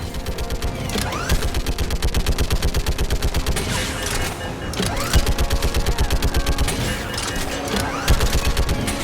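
Gunfire in a Mass Effect battle during the fall of Thessia, dense and continuous automatic bursts from several weapons layered with whooshing projectiles and booms, loud and sustained throughout.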